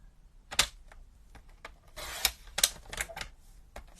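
Cardstock is cut for card making as a series of crisp, close snips and clicks at irregular intervals, some sharper and louder than others, against a quiet background.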